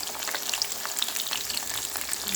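Chicken nuggets fry in a pan, giving a continuous close crackling sizzle with dense popping and spitting throughout.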